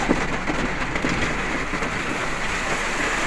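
Heavy rain pours in a dense, steady hiss, with gusty wind mixed in and no voices.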